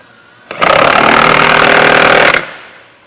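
A power tool, likely an impact wrench, snugs down the hardware on a truck cab mounting bracket. It gives one loud, continuous rattling whir of about two seconds, close up, that stops abruptly, with no talking.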